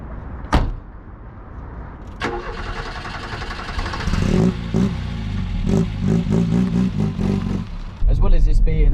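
An old Mk2 Ford Fiesta car engine cranks and catches, then settles into a rough, loud idle with some clatter and a door-like thud near the start, recorded close by.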